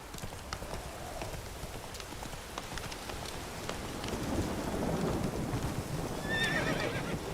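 Roach the horse gallops in The Witcher 3, with rhythmic hoofbeats under steady rain and a rumble of thunder, plus a brief whinny near the end.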